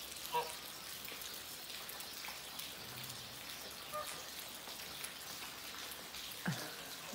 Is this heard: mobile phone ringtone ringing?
no